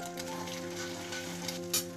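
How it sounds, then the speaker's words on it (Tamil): Steady sizzling of salted egg noodles frying in a pan, with a few soft scraping stirs of a spoon and a light clink near the end. "உப்பு சேர்த்ததும் ஒரு கரண்டியை வச்சு நல்லா கிண்டி விட்டுக்கலாம்."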